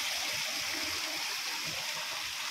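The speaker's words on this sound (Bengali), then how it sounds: "ঝর্ণার জল কেমন যাচ্ছে" A waterfall in wooded hills pours with a constant, dense rushing roar, close and loud, with no voices over it.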